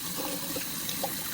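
Lukewarm water splashing and trickling while a face is rinsed, a continuous close wet running sound with small splashes.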